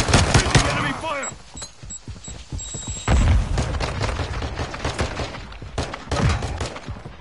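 Gunfire in a PS4 first-person shooter game: rapid bursts of shots and booming impacts keep going throughout, mixed with excited shouted talk from players.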